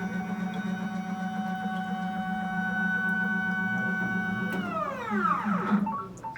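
A Formlabs Form Wash hums steadily, then its motor whirs in a rising, bending whine as it automatically lifts a printed resin part out of the IPA wash solution, close and alone without talk.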